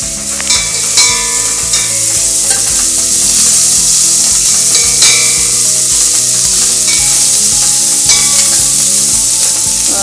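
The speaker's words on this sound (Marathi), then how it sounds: "बारीक केलेली कोथिंबीर आणि लसूण त्याच्यामध्ये जरा लालसर थोडासा तळून घ्यायचा" Finely chopped coriander and garlic fry in hot oil in a pan while being stirred, producing a loud, continuous close-up sizzle with scraping stirs, over faint background tones and without talking.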